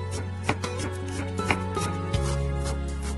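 Half an onion being sliced with a knife on a cutting board: a handful of crisp, evenly spaced knife strikes over a low steady background hum, close and with no speech.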